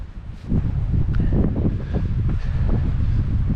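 Strong cold wind on a mountain hike near Mt Charleston in the Las Vegas area, a loud, continuous low rumble of gusts against the microphone with rustling, heard alone without talk.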